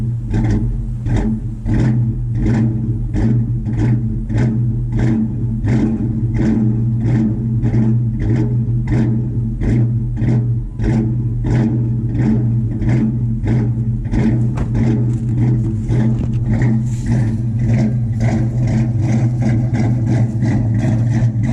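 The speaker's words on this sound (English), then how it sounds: "you can just start your car back up and it will instantly sound cammed" A Ford Mustang engine idles with its throttle vacuum hose pulled off, giving a loud, steady low rumble broken by a choppy, lumpy pulse that repeats evenly throughout, with no talking over it.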